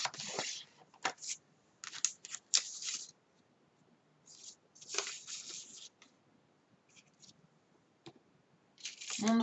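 Soft crinkles and rustles as a sheet of A4 paper is handled and folded, quiet and close, in short bursts separated by near-silence.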